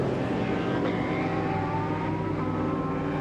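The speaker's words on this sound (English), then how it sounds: "DBR9, one of the best sounding GT cars." An Aston Martin DBR9 GT race car's engine roars loudly and steadily, a continuous close-up drone with strong low harmonics and no talk.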